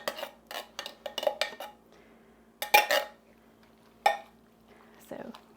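A spoon clinks and scrapes against a pot of Mexican-style rice and beans with corn, in short bursts of metallic knocks separated by quiet pauses.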